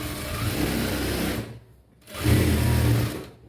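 A sewing machine stitches a plain blouse in two close, steady bursts separated by a brief pause.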